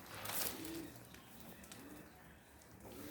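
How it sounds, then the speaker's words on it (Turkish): Pigeons in a crowded coop of around thirty birds coo softly amid rustling and a brief loud flutter near the start, faint and close. "Güvercinler bunlar arkadaşlar böyle."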